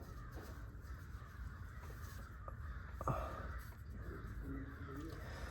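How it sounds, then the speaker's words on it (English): Crows caw now and then in the distance over a steady low background rumble, a few sharp calls spread across the stretch. "Oh my God, there's like so many crows."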